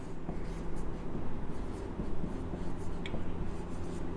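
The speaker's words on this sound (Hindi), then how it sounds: "ये लीजिए, यहाँ पर हम लोग लिखेंगे इन्फिनिटिव" Chalk or a marker scrapes steadily across a classroom board in a continuous, close writing sound over a dense background hum, with no speech.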